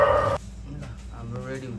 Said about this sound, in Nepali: यहाँ कुकुर छ कि कस्तो इकोसँग भुकेको